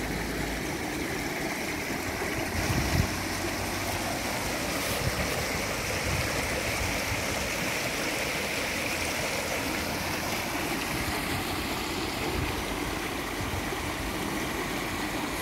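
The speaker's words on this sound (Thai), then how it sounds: "น้ำใสไหลกระเซ็น เห็นตัวปลา" A clear forest stream flows and splashes over rocks in a steady, continuous rush, close and even in loudness from start to finish, with no voices.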